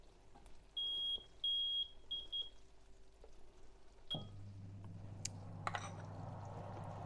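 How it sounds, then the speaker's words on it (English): A kitchen timer gives several short, high electronic beeps in quick bursts during oven-bake casserole preparation, followed by a low running hum and faint kitchen clatter, with no voices. "So there's our timer."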